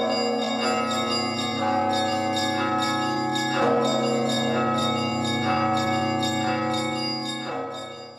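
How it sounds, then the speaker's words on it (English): Russian church bells ring in layered, overlapping peals with regular strikes and long sustaining tones, steady and moderately loud with no voices. "Bell music was a huge thing in Novgorod, as some history books I've read cited."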